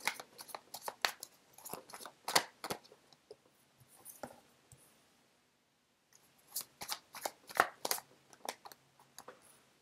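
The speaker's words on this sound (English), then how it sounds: "So let me just get the cards out first of all." Tarot deck being shuffled by hand, a run of crisp card riffles and taps near the microphone, pausing briefly midway before another burst of quick shuffling.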